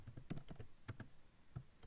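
Someone types text on a computer keyboard with soft, irregular key clicks in small clusters, close but quiet, with no talking.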